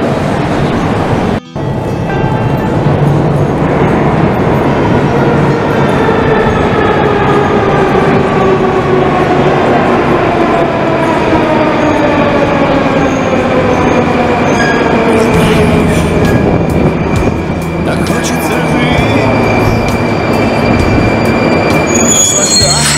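A Moscow metro train pulls into a station in January, its wheels squealing loudly and continuously with sliding metallic tones over a roaring rumble, close by.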